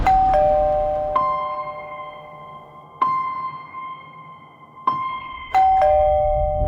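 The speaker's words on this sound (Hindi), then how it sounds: "घर की घंटी बजाई थी" A two-tone doorbell chime rings several times, each ding-dong ringing out clearly with a lingering decay in a quiet room.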